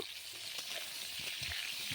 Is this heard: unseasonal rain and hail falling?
no